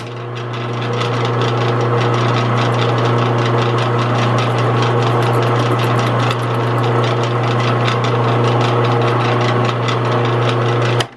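A loud, continuous whine of an electric drill drilling oil ring drain holes in a metal piston from a Devair 447 engine, running without pause for about ten seconds, steady motor hum and gritty grinding, close up.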